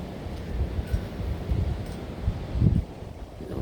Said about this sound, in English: I do know it's windy.